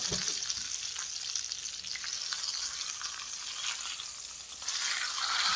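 Fish sizzles steadily in a pan with butter and lemon, a continuous crackling fry that swells slightly near the end, with no voices.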